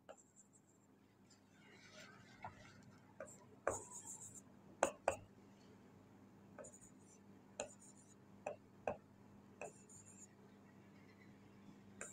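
Quiet pen or chalk taps and short scratches from someone writing math questions, a dozen or so sharp irregular ticks over a low steady hum, close and faint.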